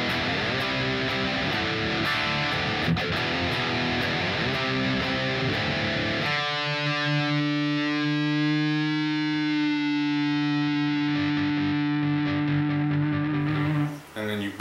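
Distorted electric guitar plays a chorus, starting with dense chugging chords, then shifting around six seconds into sustained ringing notes with effects, loud and alone before cutting off near the end.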